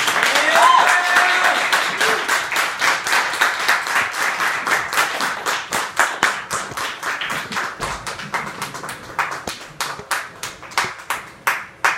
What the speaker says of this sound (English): Round of applause for everyone else who performed tonight.